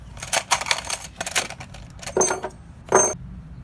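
A locksmith's setup keys jangle and clink as they are handled, several short metallic rattles close by, with no talking.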